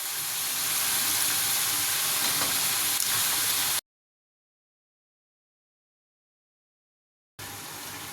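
Vegetables sizzle in a hot pan for Tamil pori kulambu, a steady close hiss of frying that cuts to silence for a few seconds before resuming.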